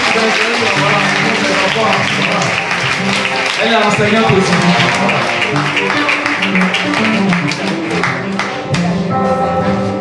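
Sustained applause from an audience at a school excellence ceremony in Assaoufoué, a dense steady clatter of many hands lasting throughout, with a voice talking over it.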